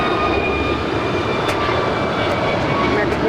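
JetBlue Airbus A320 on its takeoff roll at LAX, a dense continuous jet engine roar with faint high whines, steady and loud for a few seconds.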